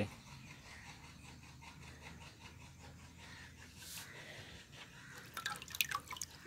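Water poured off mercury during purification, heard as faint soft drips and trickles at low level, ending in a brief burst of splashy liquid sounds near the close.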